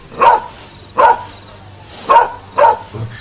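Dogs bark at night outside a family home, four sharp, loud barks spaced about a second apart, close and clear against a quiet background.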